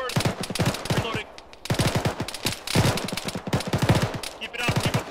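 Rapid bursts of automatic gunfire crack close and loud in a military video game, in repeated volleys with short pauses between them, while voices talk faintly underneath.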